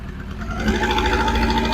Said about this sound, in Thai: เป็นเสียงของเครื่องยนต์สี่สูบนะ